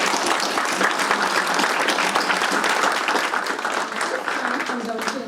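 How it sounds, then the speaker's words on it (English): A room of guests at a tourism awards luncheon gives a sustained round of applause, dense even clapping filling the whole stretch, with faint voices beneath. "Please join me in a round of applause to show our appreciation for the contribution to the tourism industry in our community"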